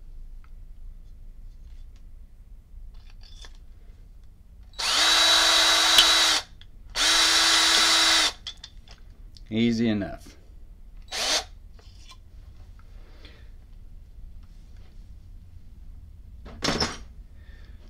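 A power drill being used to knock out the base of a vintage Ronson Adonis automatic petrol lighter, with two loud, close whirring runs followed by shorter clicks and knocks of handling. A brief spoken remark follows.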